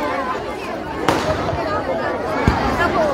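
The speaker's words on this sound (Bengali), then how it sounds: "বাজি ফাটছে, এই দেখুন। আতশবাজির আয়োজন" Fireworks burst at a large wedding celebration in Panagarh, with two sharp, loud bangs amid continuous crowd chatter and voices nearby.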